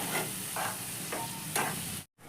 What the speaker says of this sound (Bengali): এবার আমি মশলাটাকে সুন্দর করে কষে নেব